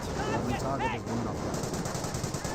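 Rapid gunfire from a World War II battle in Company of Heroes, dense bursts of rifle and machine-gun fire crackling continuously with sharp transients, mixed under a caster's talking voice.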